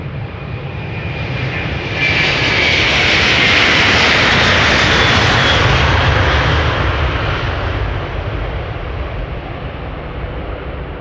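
Airbus A330 jet airliner departing Amsterdam Schiphol, a loud broad engine roar swelling as it climbs away, peaking mid-way then slowly easing, heard alone without talk.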